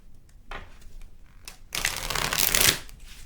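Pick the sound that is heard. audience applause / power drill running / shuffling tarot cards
shuffling tarot cards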